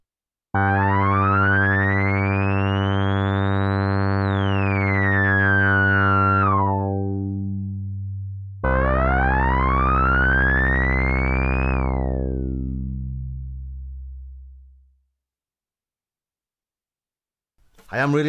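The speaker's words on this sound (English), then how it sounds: "Let's modulate it with the ADSR then." A Behringer Odyssey synthesizer with oscillator sync modulated by its ADSR envelope plays two loud, sustained buzzy notes alone. Bright overtones sweep upward and then fall back, and the second note fades out to silence.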